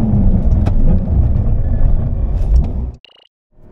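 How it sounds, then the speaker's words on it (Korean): 2023 Porsche 911 Carrera GTS Cabriolet in a braking test, a loud roar of engine and road noise that ends abruptly with a brief high-pitched tone as the car stops, followed by near silence. "이번에는 911 GTS 카브리올레 제동 성능을 한번 볼까요?"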